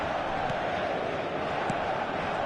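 Steady stadium crowd roar from a football video game, a dense, continuous wash of distant voices and cheering at constant level with faint thumps, no individual words standing out.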